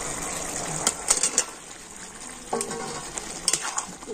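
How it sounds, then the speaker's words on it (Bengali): Fried potatoes being sautéed with spices for a vegetarian aloo dum, giving a steady soft sizzle with a few louder stirring scrapes near the start and end, no voices. "সমস্ত মশলার সাথে আলুটাও আমি একটু কষিয়ে নিচ্ছি।"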